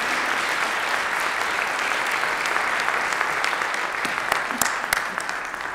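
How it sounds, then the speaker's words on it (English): Audience at a college lecture breaks into steady, sustained applause, a dense wash of clapping hands filling the room from start to finish with no talking over it. "if you wanted to applaud right now,"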